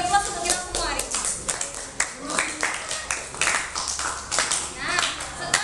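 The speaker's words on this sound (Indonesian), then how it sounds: "kita beri aplaus untuk kita semua hari ini" A classroom group of students and teacher applauding, a brief burst of many hands clapping at close range with scattered voices mixed in.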